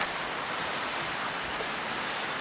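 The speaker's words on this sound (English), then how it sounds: "you can hear the rain is pretty heavy" Heavy rain falling outside a house, a dense, constant hiss of drops hitting surfaces that stays loud and even throughout with no other sounds or voices.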